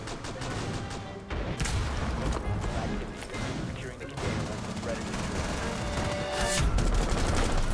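Sustained gunfire in the tactical shooter Rainbow Six Siege, repeated rapid shots and impacts crackling throughout under a continuous bed of game noise, with someone talking over the action.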